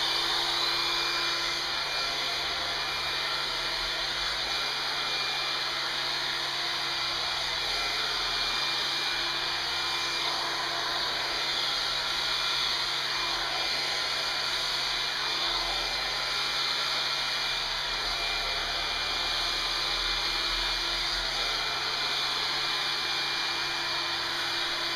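A rotating hair dryer brush runs steadily for the whole stretch, a loud constant whirring blower hum with a faint tonal whine and no pauses.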